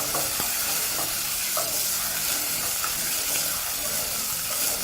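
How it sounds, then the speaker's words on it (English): Beef browns in a pan over high heat with a loud, steady sizzle and hiss, broken now and then by faint stirring scrapes. "we're gonna be browning that at some high heat"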